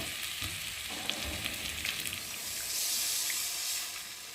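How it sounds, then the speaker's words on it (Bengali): Water poured into a pan of fried masala hisses into a loud, broad sizzle that swells toward the end, with no talking. "আর এখন আমি পরিমাণ মতো জল দিয়ে"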